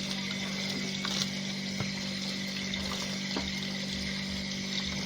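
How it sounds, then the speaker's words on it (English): A tap runs steadily while pak choy is rinsed, giving a continuous, moderate rush of water with occasional small knocks. "Wash off your pop choy and cut off them part here."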